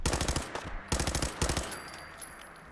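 Rapid automatic gunfire from the video game Fallout 4, loud and close, in two dense bursts with a short gap, then a ringing metallic tail fading out.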